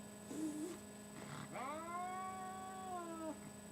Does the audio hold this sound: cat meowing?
yes